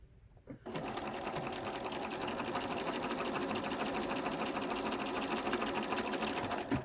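A Bernina sewing machine starts up and stitches steadily at high speed, close and loud, with a rapid even mechanical rattle that runs without a break while fabric pieces for a LeMoyne Star quilt block are sewn together.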